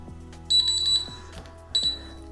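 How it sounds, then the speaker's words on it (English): A kitchen timer alarm goes off after a ten-minute countdown during a gluten test on canned chili with beans, sounding as loud, bright repeated electronic beeps in two bursts over a faint background hum. "Set the timer for 10 minutes."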